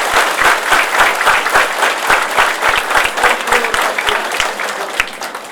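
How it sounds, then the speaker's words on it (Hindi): An audience at a diet-related program in Badlapur applauds loudly, a dense and steady burst of many hands clapping together that continues for several seconds, close and with little else heard. "फिर तालियां बजाएंगे जोर से"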